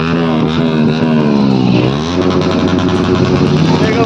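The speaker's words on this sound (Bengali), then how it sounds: "সব বাইকাররা ঢুকছে।" Motorcycles arriving at a superbike gathering at a roadside dhaba on 15 August: loud, close engine drone with revving that rises and falls, several bikes overlapping continuously throughout.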